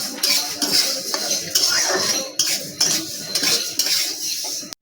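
Dal being dry-roasted in a pan, with repeated scraping and clinking of a metal spoon against the pan in a steady stirring rhythm, close and fairly loud, with no talking.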